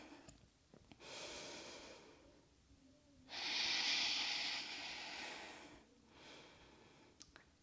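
Two deep breaths during a power yoga flow, each a long, close, airy inhale or exhale separated by short pauses, with no talking.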